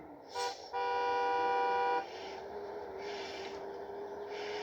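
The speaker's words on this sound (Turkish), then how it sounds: "Korna çaldığına göre." A car horn blares once in a short toot, then holds a steady, loud honk for over a second amid low traffic rumble.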